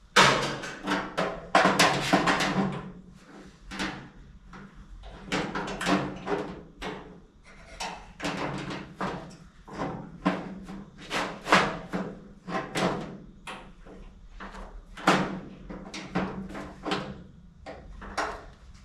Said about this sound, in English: I'm just gonna put a clamp on here just to make sure it doesn't slide